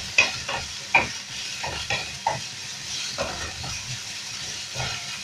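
Red onion frying in olive oil gives a steady close sizzle, broken by repeated scraping stir strokes at uneven intervals, with no talking.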